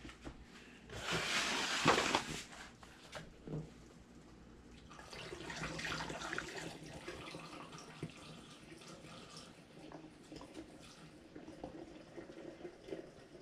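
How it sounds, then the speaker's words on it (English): Water pours and gurgles into a bottle for homemade blueberry mead, loud at first, then a softer trickle with faint clinks and handling noises. "Now we're going to fill this up with water up to here."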